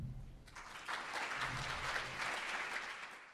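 An audience at a science fellowship event applauds steadily for a few seconds, a dense wash of clapping from a large room that holds even and then tapers slightly at the end.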